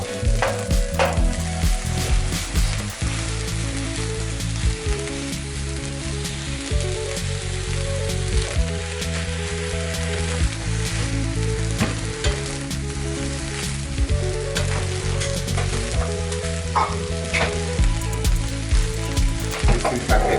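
Food frying in a pan with a steady, loud sizzle and crackle that runs on continuously, with occasional stirring scrapes and no talk.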